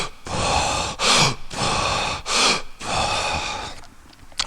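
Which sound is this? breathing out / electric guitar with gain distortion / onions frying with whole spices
breathing out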